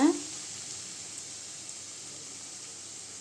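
Tomatoes sautéing in a pan for sundakkai kulambu give a faint, steady sizzling hiss, with a brief louder crackle at the start and no talk.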